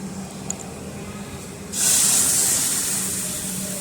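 Hot water hits a hot pan of fried roasted peanut mixture for sabudana khichdi with a sudden, loud, steady sizzling hiss that slowly eases, following a quiet stretch.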